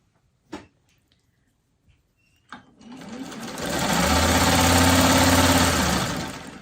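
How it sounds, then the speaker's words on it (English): A few sharp clicks are followed by a sewing machine that starts up and runs at a steady, loud, even whir as it stitches fabric squares from corner to corner. "I'm going to sew from corner to corner."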